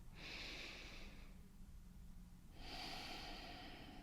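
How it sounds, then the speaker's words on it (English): Two slow, quiet breaths in a calm T'ai Chi Chih class, a long airy inhale followed after a short pause by another drawn-out breath, close to the listener with no talking. "Take a breath."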